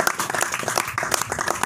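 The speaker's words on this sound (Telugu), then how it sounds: "చప్పట్లు కొట్టి దేవునికి స్తోత్రం చెల్లిద్దాం." A congregation claps together during a Telugu church sermon, a dense, steady patter of many hands sustained for a couple of seconds.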